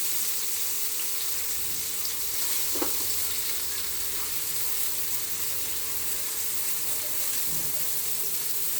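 Pieces of suran (elephant foot yam) fry in a little oil, giving a steady close sizzle throughout with a faint clink of a utensil partway.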